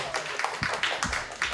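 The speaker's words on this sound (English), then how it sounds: "Give yourselves a round of applause for showing up." An audience at a Vermont Humanities community event gives a brief scattering of hand claps, near and uneven, with a faint murmur of voices underneath.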